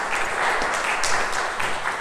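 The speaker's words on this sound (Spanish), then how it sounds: "El aplauso es a la Virgen porque ella fue la que nos trajo." Applause from a gathering at a Catholic talk on the Virgin of Guadalupe in Bern, Switzerland, a continuous, fairly loud wash of many hands clapping with faint voices underneath.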